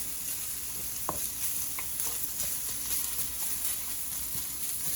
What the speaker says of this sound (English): we don't want to burn these shallots while they're frying